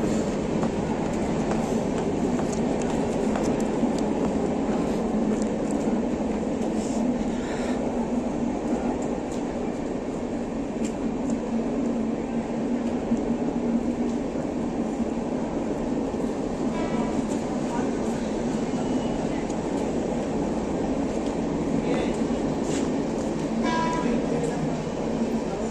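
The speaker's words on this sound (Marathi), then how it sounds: "इथून आपण डायरेक्ट चर्चगेटकडं आपल्याला ट्रेन येईल" A Mumbai local train station at Kandivali, on the line to Churchgate, in the evening with a light crowd: a steady, loud rail rumble fills the whole stretch, with faint voices and small clatters mixed in.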